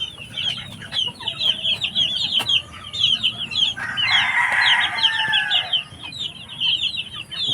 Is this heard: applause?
no